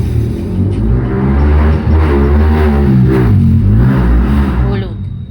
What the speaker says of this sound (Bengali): যেহেতু আমি দোকানে বসে ভয়েসটা দিচ্ছি, প্রচণ্ড গাড়ির আওয়াজ